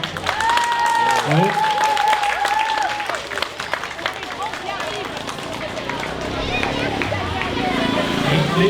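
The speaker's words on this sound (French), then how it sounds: "Vous pouvez tous vous applaudir déjà" Around 250 primary schoolchildren applaud themselves outdoors after a beach cigarette-butt cleanup awareness session, a steady wash of many small hands clapping with children's voices and an adult speaking over it early on.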